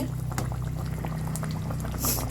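Pabda fish curry bubbles in a pan, a close, steady low burble of simmering liquid with soft popping, alone without talk.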